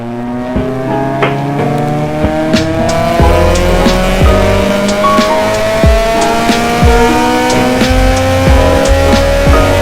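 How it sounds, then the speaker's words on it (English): A Honda Civic Sport with a K-series engine swap runs hard on a dyno, its engine screaming loud and close through rising rev sweeps and gear pulls, with no voices. "now we're going to crack on the dyno and get through the map on this one"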